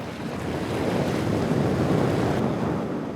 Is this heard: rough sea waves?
yes